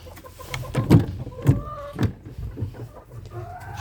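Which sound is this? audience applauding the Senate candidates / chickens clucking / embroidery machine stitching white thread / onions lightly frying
chickens clucking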